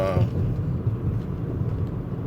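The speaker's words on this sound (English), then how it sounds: "it's a lot of little traffic" Road traffic rumbles steadily nearby, a dense low drone of passing vehicles with no clear breaks and no voices.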